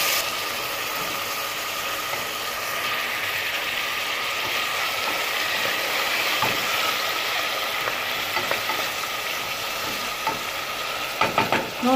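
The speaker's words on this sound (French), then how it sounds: "je vais mettre en premier mes oignons, tomates, pois chiches et viande" Onions, tomatoes, chickpeas and meat fry in rapeseed oil, making a steady, dense sizzle with clattering, ratchet-like clicks of stirring that grow busier toward the end.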